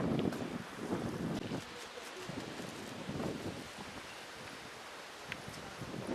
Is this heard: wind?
yes